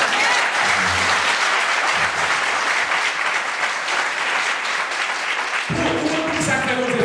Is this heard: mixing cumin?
no